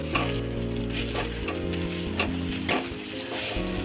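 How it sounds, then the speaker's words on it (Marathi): Fried guar bean thecha being stirred together with ground guar beans in a pan, giving a steady close sizzle with scraping strokes throughout, no talking. "आता हे आपण दोन्ही चांगलं मिक्स करून घेणार आहोत।"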